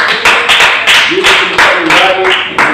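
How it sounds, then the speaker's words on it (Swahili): A crowd claps together in a burst of applause, rising and falling over a few seconds, with voices mixed in. "Makofi kwa Yesu."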